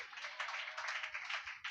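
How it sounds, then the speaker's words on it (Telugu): A church congregation claps loudly together during a sermon, a dense, sustained burst of many hands that rises and falls slightly for under two seconds, with no voices over it. "చప్పట్లు కొట్టండి గట్టిగా."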